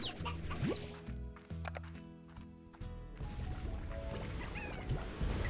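Chickens cluck and squawk in the video game Slime Rancher, a busy layered mix of fowl calls over steady background game sound.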